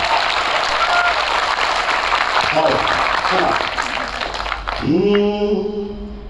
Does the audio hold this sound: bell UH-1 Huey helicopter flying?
no